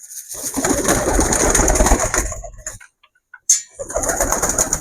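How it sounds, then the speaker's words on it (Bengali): Pigeons being let out to feed coo and flutter close by in a dense, busy burst. Their calls and wing rustle drop to near silence for about a second, then a sharp flutter sets off renewed cooing and movement. "কবুতরগুলো আমি এখন ছাড়বো সব ওদেরকে খাওয়া দিতে হবে"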